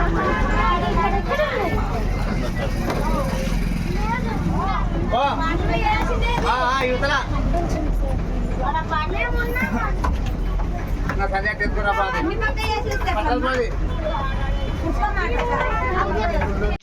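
Packed APSRTC passenger bus on the road between Bethamcherla and Dhone, dense overlapping passenger chatter over a continuous low engine and road rumble that stays loud and steady from start to finish.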